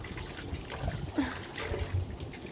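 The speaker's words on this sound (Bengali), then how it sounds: "আর এখানে আমি দেখো ফলগুলো ধুয়ে নিচ্ছি ইফতার করবো বলে।" Fruits are rinsed one by one under a running kitchen tap; steady trickling and splashing water, close and fairly even, with no talking.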